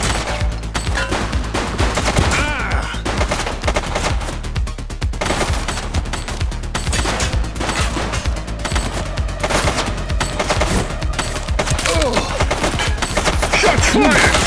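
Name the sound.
gunfire in the video game Averno True Crime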